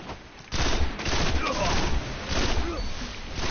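Gunfire in the video game Destiny: a sudden loud burst of shooting, then continuous clattering shots and impacts, with a voice faintly present underneath.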